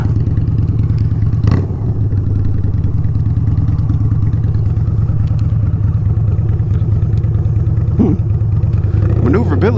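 A 2017 Harley-Davidson V-Rod Muscle motorcycle rumbles steadily while being ridden, a loud continuous low engine drone with brief rev swells, with a rider speaking over it at times.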